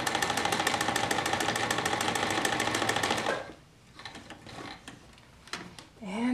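A sewing machine stitches a face mask seam in a fast, steady mechanical chatter for about three seconds, then stops, leaving quieter handling clicks and rustles.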